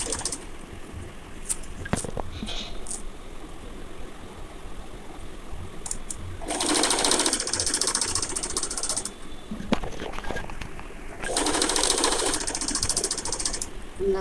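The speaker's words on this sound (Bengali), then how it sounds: "তারপর আমরা এখানে ভালো মতো টেনে সেলাই করে দেবো।" A sewing machine stitches the long seam of a fabric school belt, running in two steady bursts of mechanical clatter, each several seconds long, with quiet pauses and light handling noises between them.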